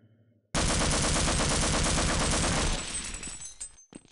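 Rapid automatic fire from an automated gun turret shooting at a cart in the 1998 game Half-Life, a loud continuous burst that stops abruptly and then trails off into fading echoes and clatter.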